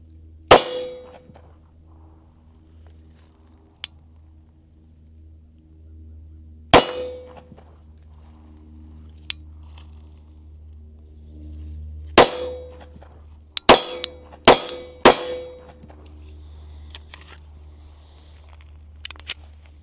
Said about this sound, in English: shoot it slower just to feel the trigger again